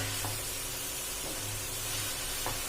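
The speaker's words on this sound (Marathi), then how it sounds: "ह्या तुपामध्येच आपण सगळं मिश्रण भिजलेलं मिश्रण आपण टाकणार आहे तुपामध्ये" Soaked flaxseed and jaggery mixture frying in hot melted ghee, giving a steady, close sizzle and hiss that holds evenly throughout with no voices.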